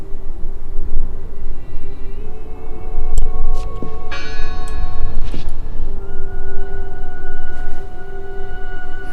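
A bell rings out in the video game Draugen, sustained metallic tones sounding over a steady low rumble of ambient background, with a brighter struck accent midway.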